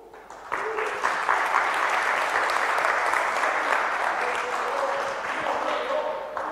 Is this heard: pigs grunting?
no